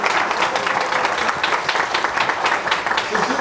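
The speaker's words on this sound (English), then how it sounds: "Let's give Dr. Lewis another round of applause" Audience applause for a guest at an evening event: a steady, dense wash of many hands clapping, loud and continuous throughout with no voices above it.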